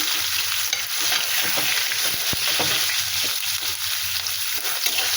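Whole cumin and onion hit hot oil in a pan for a tilapia and kohlrabi curry, giving a loud, continuous close-up sizzle with spitting crackles and no voices.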